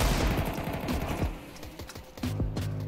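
Rapid gunfire in Counter-Strike rattles off in close, dense bursts, the shots tumbling over one another in quick succession before a final short volley.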